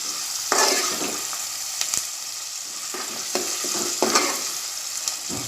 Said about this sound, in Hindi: अब हम प्याज नरम होने तक इसे तलेंगे